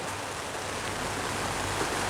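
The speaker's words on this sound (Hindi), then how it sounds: "बारिश भी हो रही है" Rain falls steadily outdoors during a public speech at a Bhim Army Chhattisgarh gathering, making a continuous, fairly loud hiss with no voice heard over it.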